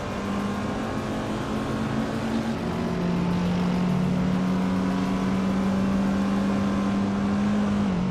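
A 1969 McLaren M6 GT racing car engine roars steadily in a racing video game, a loud continuous drone that shifts pitch slightly partway through and holds a high sustained tone, with no talking.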